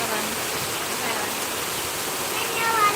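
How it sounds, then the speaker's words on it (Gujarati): Heavy rain pours down in Keshod, so dense nothing is visible far off, in a steady, dense hiss that stays constant throughout, with no gaps or letup. "દૂર દૂર સુધી કાંઈ દેખાતું જ નથી એટલો વરસાદ પડે છે"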